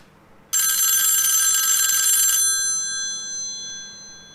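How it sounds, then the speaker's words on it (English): A telephone rings loudly and close with a bright, buzzing electronic trill that starts abruptly, lasts about two seconds, then fades with faint ringing tones trailing off, no voices. "Pick up the phone."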